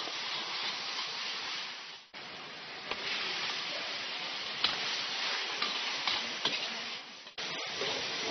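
Lamb simmering in a pot of braising sauce made with cooking wine, chili, scallion, garlic, water, salt, cumin and soy sauce. A steady bubbling hiss carries throughout, with a few soft ticks and pops and two brief dips in the sound.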